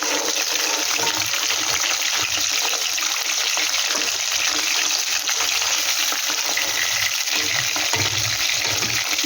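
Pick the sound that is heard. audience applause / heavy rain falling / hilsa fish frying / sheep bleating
hilsa fish frying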